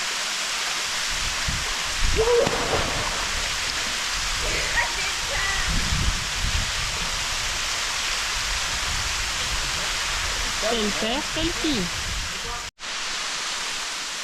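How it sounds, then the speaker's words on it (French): Waterfall pouring steadily in hot weather on an African tour, a dense continuous rush of falling water close by, with people talking over it and a brief break near the end. "Voilà cette magnifique cascade digne des Fellows."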